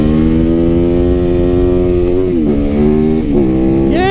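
A motorcycle engine revs loudly and close by, holding a steady high-pitched drone before dipping and surging through several quick throttle blips near the end.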